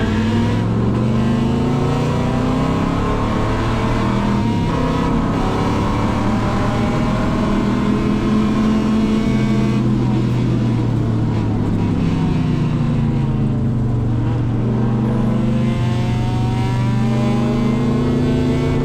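Engine of a car on a race track during a classic car event, a loud, constant droning roar with rising and falling revs as the driver shifts through gears, heard from inside the car.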